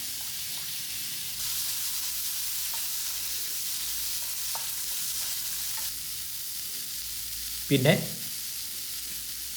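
Sardines frying in a pan for a spicy chili fish dish, a steady soft sizzle with occasional stirring scrapes and one louder clatter near the end; a voice speaks briefly.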